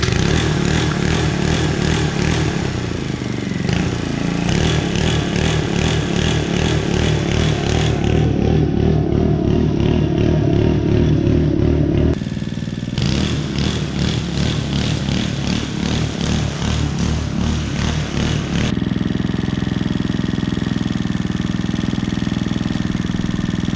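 A cheap Cheetah lawn mower engine runs steadily nearby with a rough, clattering putter, its pitch shifting a few times as the load changes, with no talk over it.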